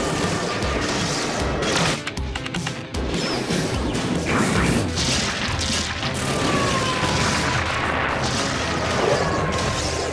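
Cartoon blaster shots ring out in a frantic spaceship chase, a burst of sharp crashing zaps over loud action music and engine roar, with excited voices shouting.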